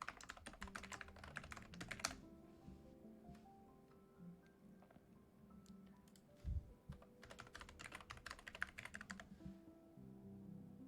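Keys clatter on a computer keyboard in quick bursts of typing, separated by pauses and a soft thump, close and fairly quiet with no talking.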